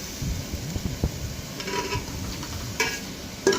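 Chicken fries gently in butter, giving a faint, soft sizzle under light ticking stirs and a couple of sharper utensil clinks near the end.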